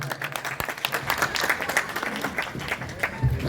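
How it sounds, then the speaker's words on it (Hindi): A crowd at a local public gathering breaks into lively applause, scattered hand claps rising and falling steadily with a voice faintly over it. "जोरदार तालियां एक बार मंगेश भाई के लिए।"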